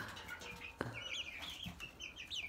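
Pet chickens cluck and chirp close by in a screened-in enclosure, with a steady run of soft clucks, one sharp tap, and bright calls through the clip, and no talk.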